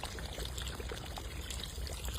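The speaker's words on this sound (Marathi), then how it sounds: "चिकन शिजण्यासाठी आपण इथं पाणी घालून घेऊ" Water is poured into a pan of chicken masala, a soft, steady trickle and splash that continues without a break, faint and fairly close, with no talk over it.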